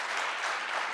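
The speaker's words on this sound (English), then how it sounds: "Please, let's give them a huge, huge round of applause." Brief burst of dense, even applause from an audience at a business contest event, a short moderately loud wash of clapping.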